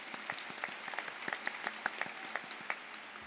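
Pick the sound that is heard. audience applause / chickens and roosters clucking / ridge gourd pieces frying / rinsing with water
audience applause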